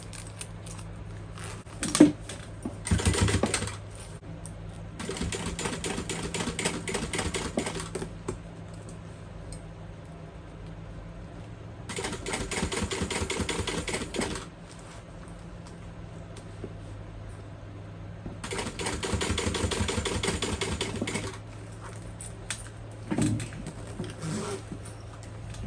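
Sewing machine top stitching a fold-over crossbody bag from zipper tab to zipper tab, running in three long steady bursts of rapid mechanical stitching with short pauses and small handling clicks between them, close and fairly loud.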